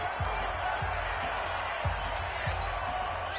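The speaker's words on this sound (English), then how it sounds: "This crowd urging on their defense. They're up and making noise." A broad, steady video game football crowd roar urging on the defense fills the scene, with a few dull thumps underneath and no individual voices standing out.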